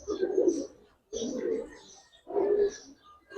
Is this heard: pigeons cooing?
yes